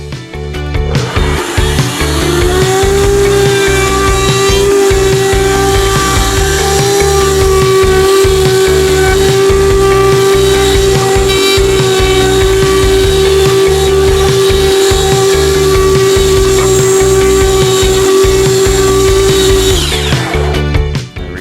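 Power tool cutting a small chamfer along the edges of a wooden tray, a loud, steady, close high-pitched whine that runs continuously for about seventeen seconds before spinning down, with no speech.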